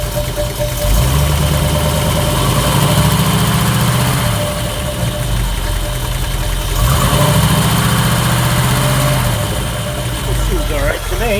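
A 1974 Chevy C10 engine runs steadily up close with a broken crankshaft pulley hub wobbling, its rough idle swelling twice as the revs are raised and then easing back, with a faint voice in the background.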